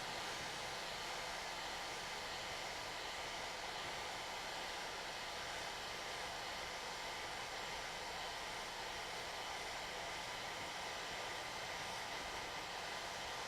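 Hot air plastic welder blowing a steady, continuous hiss of air while welding a plastic workpiece, close and constant throughout with no talking.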